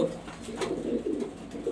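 Grizzle pigeons, a mother and father with two chicks, cooing close by in soft repeated throaty phrases that swell and fade continuously.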